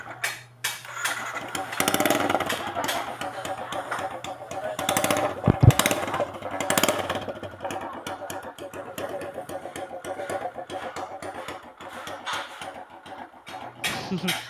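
Motorcycle with its stock exhaust pipe refitted and extended about three inches runs nearby with an uneven idle, the engine blipped and revved in irregular bursts.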